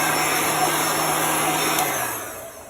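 A heat tool switched to its cool-air setting blows steadily over a chalk-painted board, with a loud, even rushing whir and a faint whine that eases off toward the end.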